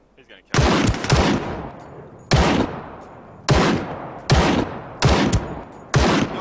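Gunfire in the shooter game Ring of Elysium: six loud, sharp bursts of rapid shots spaced roughly a second apart, each a fast crackling volley with a quick decaying tail, close and dominant.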